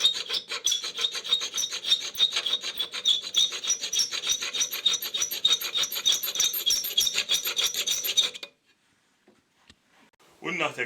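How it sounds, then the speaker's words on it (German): A hand file rasps back and forth in quick rhythmic strokes, widening the slot of a Hall sensor connector from a Porsche 944 S2/968/928. The close, scratchy filing stops abruptly, leaving near silence and a faint rustle. "ich feile jetzt den Schlitz etwas breiter"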